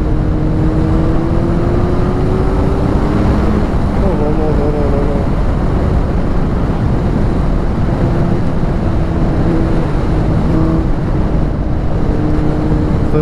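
A Suzuki GSX-R 750 sport motorcycle fitted with an Akrapovic exhaust, heard on the move with a loud, sustained engine drone that rises and falls in pitch as the rider works through the revs, with a voice speaking over it.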